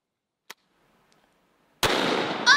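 A loud, close blast of double-aught buckshot fired at a target, preceded by a faint click and a quiet lull, with a sharp burst and crackling tail that rises again at the end.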